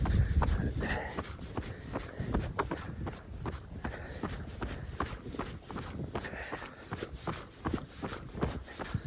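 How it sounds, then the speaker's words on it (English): Trail running footsteps on rocky mountain ground on Mt Helena, a steady rhythm of close, thudding strides with scuffs and crunches of loose stones, accompanied by heavy breathing. "I feel like I'm stomping on the ground even though I'm not."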